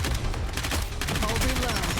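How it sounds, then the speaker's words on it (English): Rapid volleys of gunfire from a whole squad shooting at once in Nikke, a dense rattling barrage with rhythmic bursts that intensifies partway through, loud and close. "Everyone's firing all at once."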